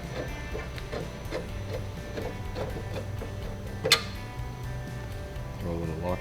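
Removing a bolt from a rear crash bar on a 1999–2008 bagger motorcycle gives a faint, steady series of light ticking clicks, with one sharper metallic click partway through, in a quiet workshop.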